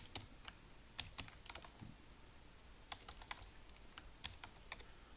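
Soft clicking of a computer keyboard as someone types into aviation bus software, with irregular light keystrokes in quick clusters against a quiet room.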